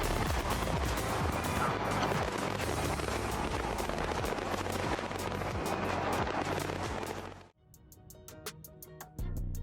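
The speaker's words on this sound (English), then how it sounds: "What you are seeing is one of the most massive fireworks displays." Dense, continuous crackling and booming of fireworks explosions, loud and sustained, then a sudden drop to sparse sharp pops near the end.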